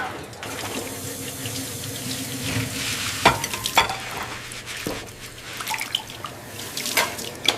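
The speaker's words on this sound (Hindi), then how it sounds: "जाओ वहां बैठकर बर्तन मांजो।" Metal utensils clink and clatter amid running water and wet scrubbing as dishes are washed in a household setting, with sharp irregular knocks of pots and plates over a continuous watery background.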